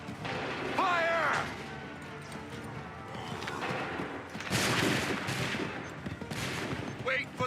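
Musket volleys crack out on command in an Assassin's Creed III battle at Lexington and Concord, loud broadband blasts rising above shouted orders and battlefield din.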